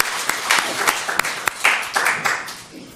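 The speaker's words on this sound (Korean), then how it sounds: "박수로 하나님께 영광을 내드리겠습니다." A church congregation claps in praise during a worship service, a moderately loud patter of many hands with distinct sharp claps standing out, thinning out toward the end.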